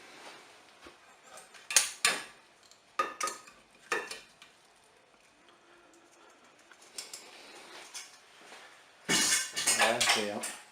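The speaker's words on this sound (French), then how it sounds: "Je vais donc mettre mes pommes de terre dans un plat pour ensuite mettre le plat au four." Potatoes going into an oven dish, heard as scattered clinks and knocks of dishes and utensils at moderate loudness, with quiet gaps between them and a louder clatter at the end.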